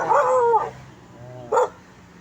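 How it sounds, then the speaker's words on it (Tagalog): A dog gives a couple of sharp, loud barks close by, a long yelping bark and then a short one after a pause, with quiet background. "Matatapang pala yung aso mo ah."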